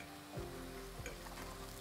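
Vegan zucchini fritters sizzle and spatter in a frying pan, a steady, close crackle of hot oil with a couple of soft scraping touches.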